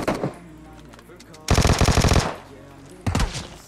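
Automatic gunfire from the mobile video game PUBG Mobile: a faint shot at the start, then a loud sustained burst of rapid shots, followed by a shorter burst near the end.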